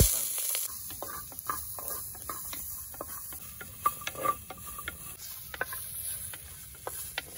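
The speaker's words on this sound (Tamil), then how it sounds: "அதே சட்டியில் எண்ணெய் ஊற்றிட்டு சின்ன வெங்காயத்தையும் நம்ம திருவி வச்சுருக்க தேங்காயையும் நல்லா வறுத்து எடுத்து வச்சுக்கணும்" Small shallots and freshly grated coconut fry in oil in a pan for a village-style Chettinad chicken, giving a steady sizzle broken by frequent sharp stirring scrapes and taps against the pan, close and clear with no talking.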